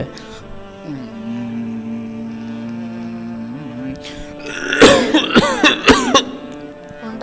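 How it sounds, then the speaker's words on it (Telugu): A short cluster of harsh, close coughs bursts out near the end, following a stretch of steady tonal background sound at what appears to be a church Sunday school service. "దగ్గు వస్తుంది ఏంటి?"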